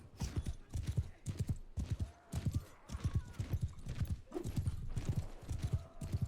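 Horse hooves galloping in the video game Mount and Blade 2 Bannerlord, a fast steady rhythmic clip-clop of many hoofbeats, close and loud, with occasional faint battle noise behind.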